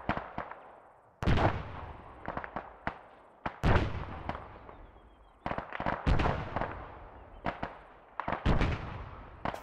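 Grenade launchers firing in the Arma 3 Antistasi game mode: repeated sharp booming reports in irregular clusters, some near and loud, others more distant, each followed by a short decaying tail, with no voices.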